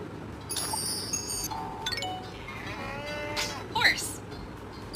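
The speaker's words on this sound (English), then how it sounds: "Cow." A cow moos in a children's farm-animal guessing game: a drawn-out lowing call rising and falling, mixed with chime-like tones and light background sound.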